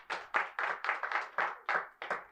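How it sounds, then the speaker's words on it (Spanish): Inside a church, the congregation claps in an even, steady rhythm of about eight distinct claps, heard fairly faint and apart from any speech. "Den un fuerte aplauso al Señor."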